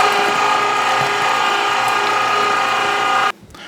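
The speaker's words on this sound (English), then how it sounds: "I've got some meat down the throat of my grinder. I'm just gonna step on my foot pedal here" An electric meat grinder with a foot pedal grinds pork for bratwurst, its loud, steady motor whir and churning mechanical rattle running continuously for over three seconds before cutting off abruptly.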